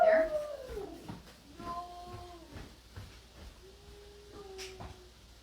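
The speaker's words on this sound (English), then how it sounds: "That dog barking just makes me crazy." A dog whines and howls in short, drawn-out tonal cries, several in a row, fairly close and moderately loud.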